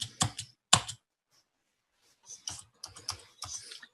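A computer keyboard that is acting up clicks in short, quick bursts of keystrokes, close and moderately loud. A clear pause of silence falls between the first flurry and a later run of typing.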